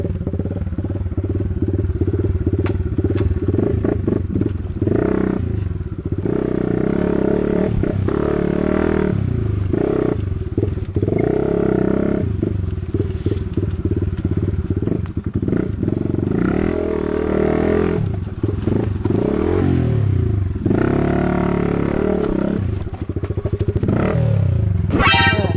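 Dirt bike ridden on a trail to the Haew Sema waterfall in the cold season, its engine droning loud and close throughout with a revving, clattering roar and no pauses.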